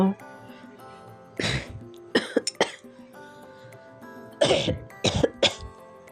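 A woman coughs in several harsh bursts, close and loud, with short pauses between fits, and a little throat clearing over a quiet indoor background.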